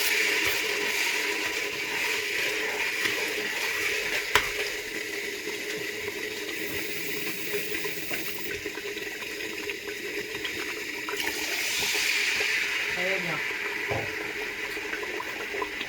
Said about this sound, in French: donc ici je viens ajouter un peu d'eau, comme ceci, vous voyez.